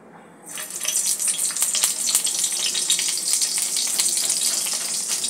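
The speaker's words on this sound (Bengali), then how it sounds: "এক এক করে পাতুরিগুলো ভেজে নেব।" Prawn paturi dropping into hot mustard oil in a kadai, bursting into a loud, dense, crackling sizzle that holds steady and close for several seconds after a quiet start.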